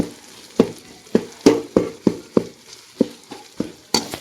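A spoon scrapes tomatoes frying in a pot for biryani, about ten distinct stirring strokes in a steady rhythm, each a clear close scrape over a faint sizzle, no voices.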